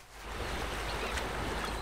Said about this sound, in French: Alors le plus important, le bruit des vagues.